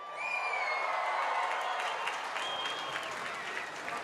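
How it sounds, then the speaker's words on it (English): A crowd at the Goodwood motorsport event cheers and applauds for a world champion, sustained clapping with scattered whoops and whistles throughout, loud and close. "Let's have a huge cheer, first of all."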